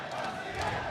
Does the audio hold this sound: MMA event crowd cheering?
yes